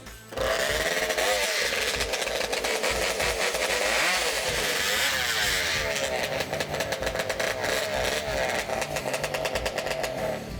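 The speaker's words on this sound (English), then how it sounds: "Warm up your saws." Chainsaws revving and idling at a timber sports competition, with several saws running loudly and continuously before a race, and an announcer's voice over the engine noise.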